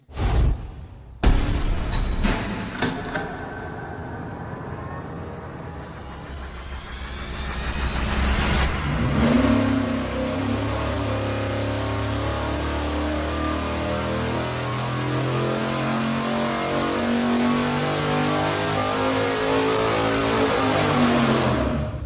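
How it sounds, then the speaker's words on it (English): An engine on a dyno with an open carburetor and no air filter fires up after a brief crank, then roars steadily and loudly at sustained revs, a strong continuous drone close by. "first we're gonna fire it up and run it with no air filter on it at all"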